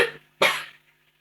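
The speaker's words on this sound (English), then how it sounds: "My son is coughing." A child coughs twice at close range, a short cough followed by a louder, harsher one, then quiet.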